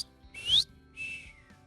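A person whistles two short, bright phrases up close, the first rising sharply and the second falling away, with a brief pause between them and no talking.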